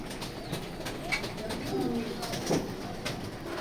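Racer pigeons coo in a pigeon loft at night, soft repeated low calls spread through a short stretch with faint rustling and other birds murmuring around them.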